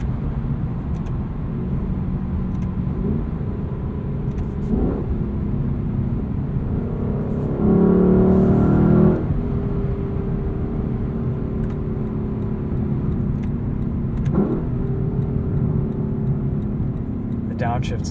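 Engine of a 2021 Lexus LC 500 coupe pulling hard through the gears from inside the cabin, a steady drone with a louder surge mid-way and brief dips at shifts, running beneath a voice throughout.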